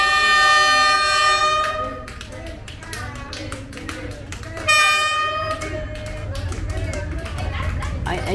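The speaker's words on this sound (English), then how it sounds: "As the train passed in front of me" A train rumbles past close by in Hanoi, Vietnam, its horn blaring at the start and again midway, with clattering wheels filling the gaps.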